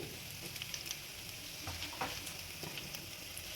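Crushed garlic and dry chillies fry in oil with a continuous quiet, even sizzle and a few soft stirring ticks.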